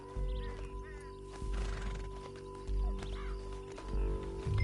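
A horse in the video game Red Dead Redemption 2 whinnies, with hooves clip-clopping and a steady layer of game background sound underneath.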